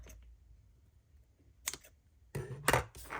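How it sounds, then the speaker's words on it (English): Trimming the cover of a junk journal with a cutting tool, a few sharp crisp cuts and clicks near the end after quiet handling noises, close and fairly loud. "So let me trim this."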